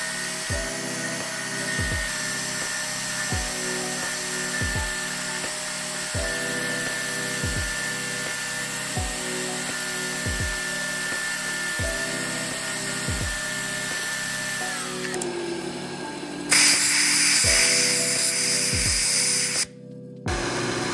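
A fine drill bores 0.4 mm holes in a watch tourbillon cage under flooded coolant, a high whine broken by a regular series of short pecking cycles, then a louder hiss near the end, all close and without talk.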